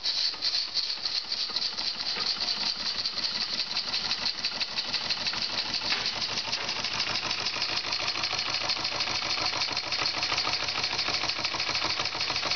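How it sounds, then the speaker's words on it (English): A large model steam engine with a high-performance boiler, driving a generator, chuffs with a rapid, even mechanical beat, steady and close throughout, with a faint hiss over it. "here's the uh, big Polish steam engine and the large generator and a new high-performance boiler"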